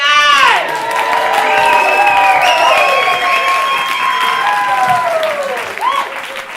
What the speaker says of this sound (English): So everyone take a deep breath and a round of applause